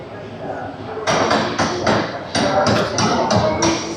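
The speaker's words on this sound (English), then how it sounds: "One of the 4 men would check each rivet with a special hammer" A special hammer strikes steel rivets in a series of sharp, ringing blows, irregularly spaced and close, after a quieter lead-in with faint voices.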